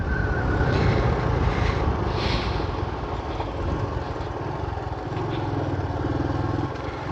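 A 110cc motorcycle being ridden, its engine droning steadily with slight rises and falls in pitch, close and loud over rushing wind, no talk.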